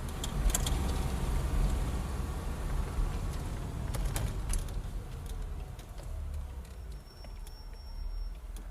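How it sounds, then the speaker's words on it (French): A car rolling into a house courtyard and coming to a stop, heard as a low, steady engine rumble with faint rattles and clicks, moderately quiet and with no voices. "La voiture s'immobilisa dans la cour du pavillon familial."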